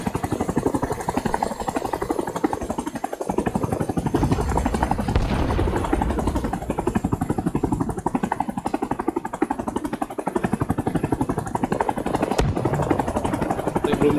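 A helicopter in the video game Rising Storm 2: Vietnam thumps with fast, even rotor beats over a heavy engine drone, loud and close from inside the aircraft for the whole stretch.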